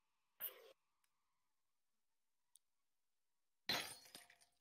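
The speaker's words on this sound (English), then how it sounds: "I can hear the glass breaking." Two separate glass-smashing bursts in the VRChat video game, a short crash followed after a pause of about three seconds by a louder, longer shatter with scattered tinkling pieces, with a faint click between them.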